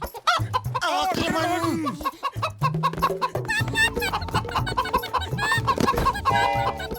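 Cartoon chicken clucks in rapid, excited bursts, loud and close, mixed with animated voices speaking and frantic chase sound effects.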